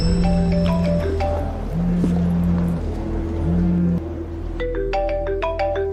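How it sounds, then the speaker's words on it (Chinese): An incoming video call rings on a phone as a repeating electronic ringtone melody in clear bursts over a low steady hum, ending with a quicker run of bright tones. "妈，爸爸打视频电话过来了。"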